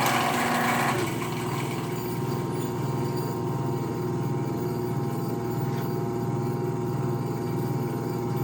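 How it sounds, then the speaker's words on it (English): A new 3 hp electric motor runs on a phase converter with a steady, even mechanical hum and a faint high whine, holding a constant level throughout after a brief louder burst at the start. "Let's see what happens with the new Bowler motor."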